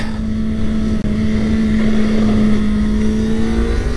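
A Kawasaki ZX-4RR motorcycle riding on a technical race circuit, its engine holding a loud, steady high-revving drone with a momentary dip, heard close under rushing wind noise.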